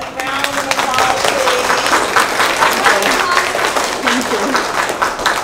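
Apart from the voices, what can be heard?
audience applause for the school principal and treasurer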